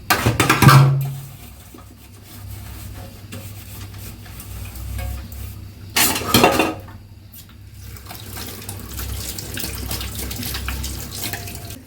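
Plates and bowls being washed at a kitchen sink, with a steady trickle of running tap water, a few louder splashes and clatters, and soft handling noises throughout.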